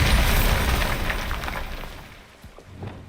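Bombarda explosion spell in Hogwarts Legacy, a loud blast whose rumbling, debris-filled roar decays over a few seconds, followed by faint scattered clatter.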